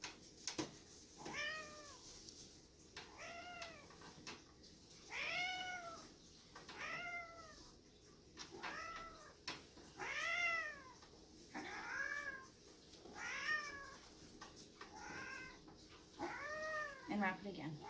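A cat meows repeatedly while being wrapped tightly in a towel, giving about ten drawn-out, rising-and-falling cries at a steady pace, close and clear over a faint background hum.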